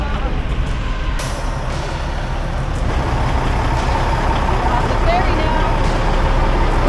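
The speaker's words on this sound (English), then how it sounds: "there's a dump truck right next to you" A dump truck rolls onto the ferry to Culebra, its heavy diesel engine rumbling loud and close in a constant broadband drone, with faint voices mixed in.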